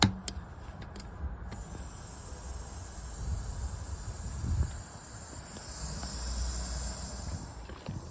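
A steady hiss of air escapes from a punctured van tyre sprayed with leak detector fluid, running continuously and fairly close, with faint rustling and a few clicks over it.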